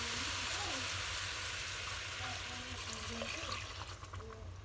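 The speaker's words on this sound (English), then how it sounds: "I'm going to add the water." A steady hiss of water hitting a hot pan of fried onion and tomato, sizzling and bubbling throughout, with faint voices murmuring underneath.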